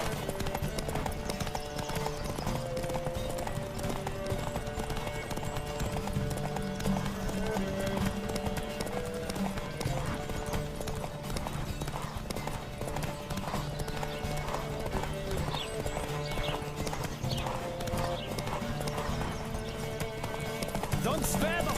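Horse hooves clip-clop at a racing gallop in Witcher 3, with occasional whinnies and a steady pounding rhythm under continuous game music and voices.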